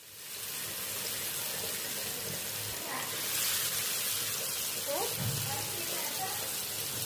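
Seer fish (vanjaram) pieces sizzling as they fry in hot oil, a soft steady hiss and crackle in a kitchen with a few faint clinks, quiet and continuous from start to end.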